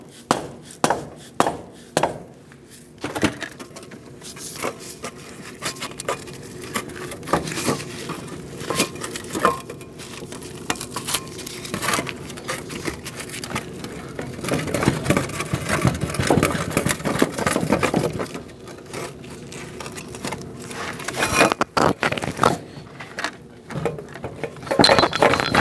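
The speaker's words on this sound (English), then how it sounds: "I'm going to make sure that axle comes out." Metallic clanks, knocks and scraping as a front axle shaft is worked out of the wheel hub on a 2004-2012 Chevrolet Colorado, with sharp impacts early and irregular rattling, close and without speech.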